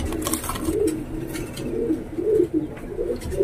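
Pakistani high flying pigeons coo nearby in a series of soft, low, rolling calls repeating every half second or so, close and clear with faint background noise.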